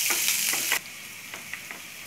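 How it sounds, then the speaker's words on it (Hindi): Chopped onion and green chillies frying in a pan, a steady bright sizzle with a few stirring clicks; the hiss cuts down sharply partway through and then continues more quietly with occasional taps. "कंदा बारीक कट के रखा था हरे मिर्ची ये सब ऐड करके पहले अच्छी तरह से फ्राई कर लूँगी"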